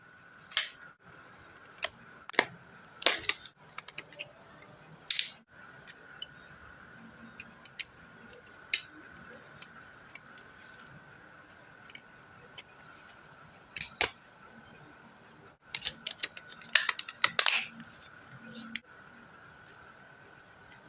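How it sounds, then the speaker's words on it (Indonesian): Small plastic clicks and snaps from a SIM card going into a Nokia 8110 4G phone, scattered sharp ticks spread over the stretch with a faint steady tone beneath, recorded close up. "jadi untuk SIM cardnya sudah saya masukkan"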